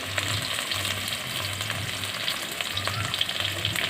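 Chopped onions fry in a pan with a steady, close crackling sizzle, while a low hum comes and goes in the background and a few soft stirring taps sound, with nobody speaking.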